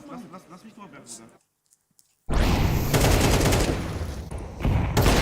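Gunfire rattles through a Counter-Strike match at a pro esports event. A voice speaks, a short silence follows, then loud, dense rapid-fire shooting keeps going to the end of the clip.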